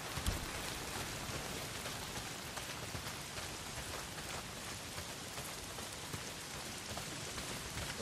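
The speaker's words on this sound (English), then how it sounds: "Well, not if it's pissing down rain." Steady heavy rain pours down in the open-world game Days Gone, a dense continuous hiss of drops on surfaces that stays even and close throughout with no voices.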